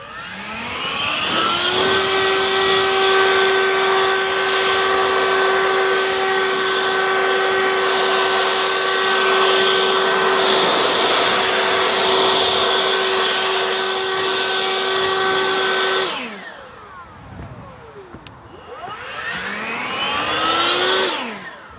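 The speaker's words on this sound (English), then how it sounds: "And we blow down the roof, get these little bits and pieces of leaves towards the edge of the roof." A leaf blower clearing leaf bits off a roof in Australia: a loud, steady motor whine held for about sixteen seconds, then it revs down, and a second rising rev follows.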